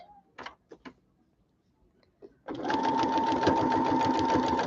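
A sewing machine stitches a strawberry foundation-paper-pieced quilt, starting after a few soft handling knocks and then running steadily, loud and close, with a continuous whirring hum and rapid needle rhythm.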